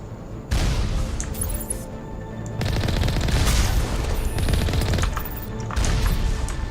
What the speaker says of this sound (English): I can hear something shooting us.